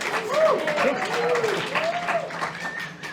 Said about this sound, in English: please have a nice big warm, tell us another one, round of applause for Paula Ferrari